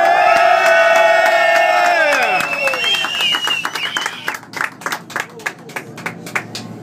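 A crowd on a yacht lets out a loud cheering shout of goodbye, a sustained roar of many voices that breaks into scattered whoops and claps as it fades.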